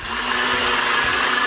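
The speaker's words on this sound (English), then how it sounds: "Here's a traditional blender." A traditional kitchen blender running at full speed, a loud, steady, close motor whine and rushing churn that holds unbroken throughout.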